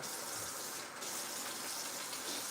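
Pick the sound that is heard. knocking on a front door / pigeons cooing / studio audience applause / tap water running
tap water running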